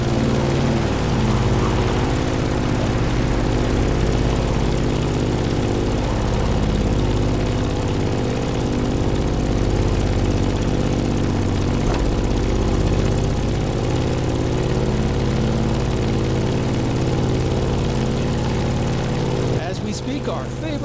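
Loud, steady drone of a Grumman F8F Bearcat's propeller engine in the video game The Crew Motorfest, a constant throbbing roar that holds unchanged for the whole stretch, with a voice talking over it.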